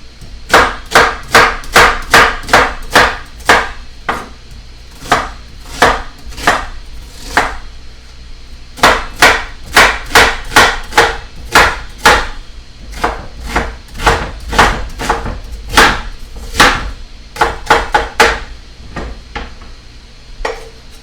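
Knife chopping onions on a cutting board, a long run of sharp, close, loud rhythmic strikes in rapid bursts with brief pauses between runs.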